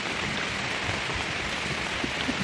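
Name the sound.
heavy rain and strong wind during 2022 flood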